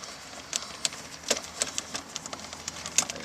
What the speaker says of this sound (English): so it takes a little while to unscrew these